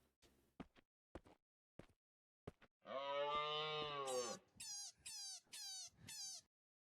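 Inside a hunting video game, a long, loud, low moo-like animal call follows a few sharp clicks, then gives way to several shorter, higher calls that sweep upward.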